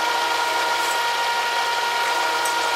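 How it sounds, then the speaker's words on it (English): A steady, continuous power drill whine with a high mechanical hum, drilling holes through a Studebaker's metal car body without pause. "Just drill these holes for the body side mount of the quarter panel"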